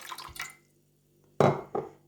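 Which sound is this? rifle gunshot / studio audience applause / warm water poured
warm water poured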